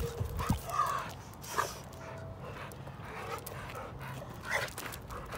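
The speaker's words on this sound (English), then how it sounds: "I can feel her growl." A six-year-old dog pants and gives low whimpering noises close by, in uneven bursts with quieter stretches between them, while a person's voice comes in faintly now and then.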